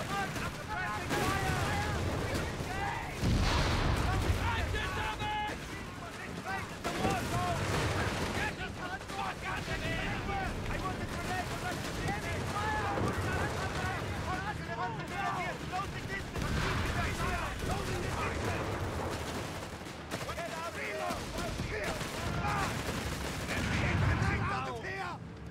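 Company of Heroes 3 battle with suppressing gunfire, dense continuous shooting and explosions in a loud wartime game mix, with voices shouting over it.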